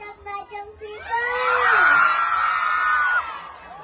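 A crowd at a stage show in Dubai lets out a loud, swelling shout and cheer lasting a couple of seconds, after a voice speaks briefly at the start.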